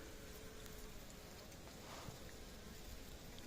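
A steady, dense buzz of many honeybees in a hive fills the whole clip, a constant hum with no pauses and no voices.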